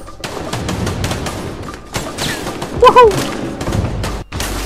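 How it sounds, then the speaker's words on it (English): Gunfire in the video game A Way Out, a dense, loud fusillade of overlapping shots that keeps going throughout, while a player shouts over it. "They're shooting from behind there."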